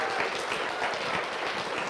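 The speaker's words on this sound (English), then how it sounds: "Let's give him a round of applause" An audience gives a round of applause for Joe Crookston, a soft, even wash of many hands clapping at a distance for about two seconds.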